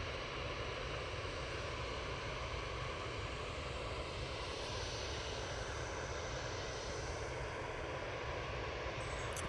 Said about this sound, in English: Next in will be a Ryanair coming in from Rome